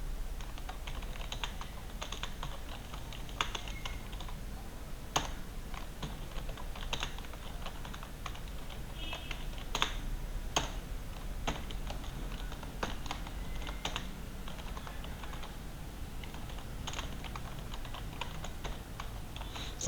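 Quiet keyboard typing runs steadily in uneven bursts of soft clicks, with a few louder key strikes over low background hiss.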